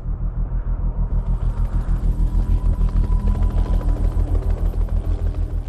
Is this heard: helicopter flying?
yes